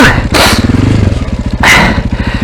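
A motorcycle with its sump guided onto a stand, the engine idling in a close, steady throb with two brief surges of revving as the bike is driven forward.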